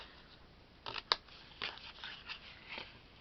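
Scissors snip through paper for a card shadow box in a few soft, close cuts, one sharper crisp snip standing out in a quiet room.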